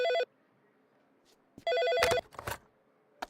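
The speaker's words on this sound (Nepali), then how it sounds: "फोन उठा।" Telephone bell ringing in two separate bursts of electronic trilling, loud and close, with a gap of silence between them and some knocking noises after the second ring.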